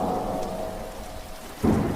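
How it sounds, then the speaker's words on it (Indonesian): Heavy rain pours steadily at a campsite on the way to camp, with a low rumble of thunder underneath and a sudden deeper thunder boom near the end, no voices. "hujan semakin lebat"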